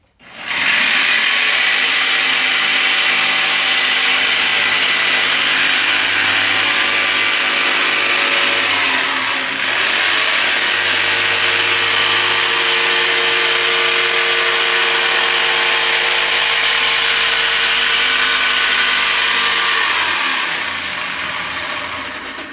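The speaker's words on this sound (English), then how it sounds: "I'm just going to do my jigsaw because I'm kind of confident with my jigsaw" A jigsaw cutting 1/4 inch Revolution plywood, a loud close continuous buzzing rasp with a brief dip in the middle of the cut, running for over twenty seconds.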